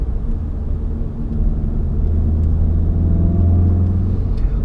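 A 2016 Volkswagen Golf GTI Clubsport drives and accelerates on a wet road, its engine a steady close rumble that swells as it speeds up, with no talk.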